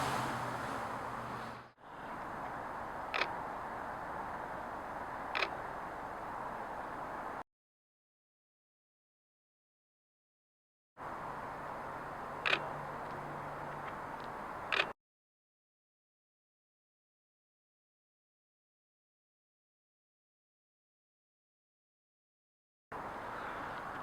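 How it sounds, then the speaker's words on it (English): A Nikon camera's quiet shutter fires about three times as soft, isolated clicks spaced a few seconds apart, over steady background hiss and broken by stretches of silence. "The shutter sound is much quieter, which is always a plus for wedding shooters"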